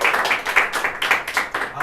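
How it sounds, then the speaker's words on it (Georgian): A studio audience at a television quiz game claps together in a brisk, steady rhythm of close, loud applause for a short burst. "აპლოდისმენტები გავამხნევოთ."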